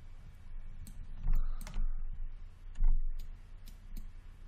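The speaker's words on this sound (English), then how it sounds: "hit 7 on our keyboard." Keys on a computer keyboard are pressed in a few sharp, separate clicks against a low steady room hum, with no talking.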